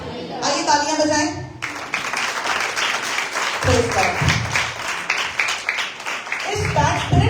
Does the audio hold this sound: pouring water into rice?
no